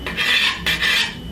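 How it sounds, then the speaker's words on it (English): A metal bench knife rasps over a wooden rolling pin, scraping off flour and stuck bits of dough in two long close strokes separated by a short break, with no voices. "just scrape off all that flour and any pieces of dough that gets stuck to your rolling pin"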